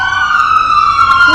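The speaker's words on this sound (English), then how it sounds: "There's sirens." A loud siren wails steadily in a city street, its pitch sliding slightly, close by and dominating the street noise.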